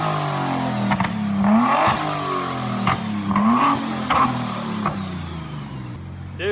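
A wrecked and rebuilt 2023 BMW M3 with a straight-pipe exhaust and direct injection revs loudly up close, rising and falling in repeated throttle blips with a raspy, crackling edge and no talk.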